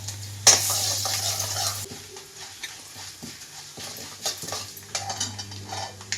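Dry red chillies tempering in hot oil in a pan for a raw papaya stir-fry, with a burst of sizzle early on, then a low continuous fry under stirring scrapes and utensil clinks.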